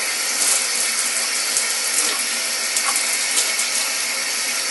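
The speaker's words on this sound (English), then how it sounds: "I'm going to work my way up to the top, rinsing out all of the conditioner" Steady running water rinsing conditioner out of hair, a continuous even splashing hiss that holds at moderate level throughout with no talking.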